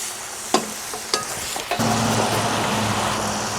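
A few clanks of a utensil against a pan, then food hits hot oil and a steady sizzle of frying continues up close.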